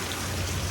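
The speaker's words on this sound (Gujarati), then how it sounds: "વરસાદ જો પૂગી ગયો" Rain pouring down during a windstorm in a rural village, a brief, even hiss of falling water with no voices.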